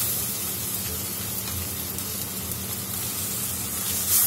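Tomatoes dropped into a hot oiled pan, a steady loud sizzle and hiss that fills the whole moment, close up, swelling slightly at the end.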